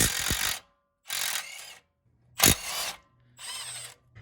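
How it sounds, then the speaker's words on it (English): An impact wrench on top of a Jeep JL/JT tie rod castle nut fires in four separate bursts of loud whirring hammering, each about half a second, with short silent pauses between them. "Now go ahead and get your impact on top and take off the castle nut."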